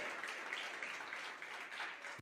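A church congregation applauds together in a large worship space, a continuous wash of clapping that stays even for the whole moment, distant and soft in level.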